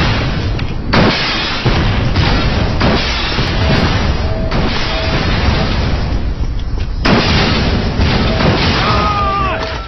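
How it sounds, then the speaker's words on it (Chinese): Slow rocket launcher in Final Combat firing and exploding, heavy booming blasts and rumbling crashes recurring across a dense, loud battle soundscape. "这个火箭筒非常慢，但我估计威力会很大"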